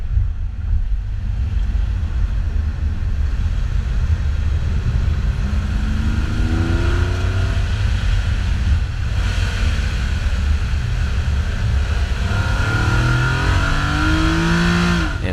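A Nissan 280ZX car accelerates hard on a spirited road drive, its engine note rising steadily through the gears under constant wind rush, loud and close from inside the car.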